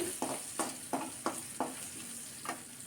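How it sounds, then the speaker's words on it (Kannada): Mustard seeds, cumin and asafoetida fry in hot oil, with a soft steady sizzle broken by about half a dozen quiet sharp pops and spatters at irregular intervals. "ಸಾಸಿವೆ, ಜೀರಿಗೆ, ಹಿಂಗ್ ಪೌಡರ್ ಇಷ್ಟನ್ನು ಹಾಕಿಬಿಟ್ಟು ಫ್ರೈ ಮಾಡ್ಕೊಳ್ಬೇಕು."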